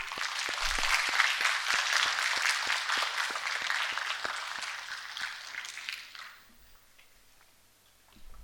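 An audience bursts into dense applause welcoming a guest on stage at a co-hosted show, loud and sustained with distinct sharp claps, then fading out to near quiet with a few stray claps at the end.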